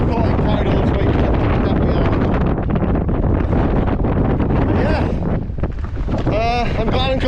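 Strong gusting wind buffets the microphone on a steep mountain climb on the Dingle Way in Ireland, a loud continuous roar that eases briefly near the end.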